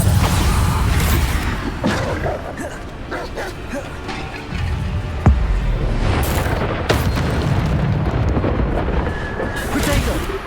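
Bombarda spell explosions in the Hogwarts Legacy video game, booming blasts amid constant battle noise and game effects, with a voice calling out spells over them.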